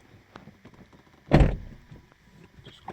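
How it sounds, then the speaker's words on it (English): A door on a 2000 Toyota Camry swings shut with one solid thunk near the middle, preceded and followed by faint small clicks and handling noises in a quiet space. "when you close the door"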